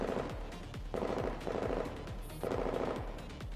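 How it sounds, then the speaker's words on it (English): Gunfire in the Girls' Frontline video game, repeated bursts of rapid automatic shots in several clusters separated by brief pauses, moderately loud with no talking over it. "The sound of gunfire fades behind them."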